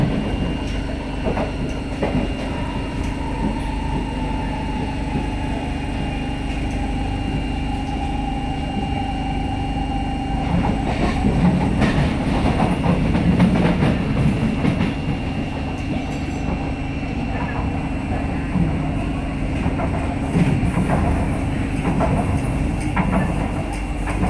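A Singapore MRT train runs steadily, with a continuous rumble, rail clatter and a tone that slides down partway through, heard from inside the carriage at constant loudness with no talk.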